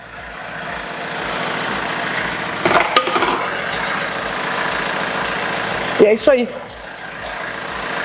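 A car engine idles steadily during an automatic transmission fluid change, a low constant rumble broken by two short clanking knocks, with someone speaking over it.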